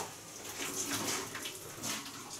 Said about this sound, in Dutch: Laat de water eruit ketsen.